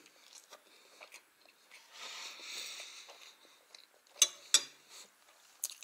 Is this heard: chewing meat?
yes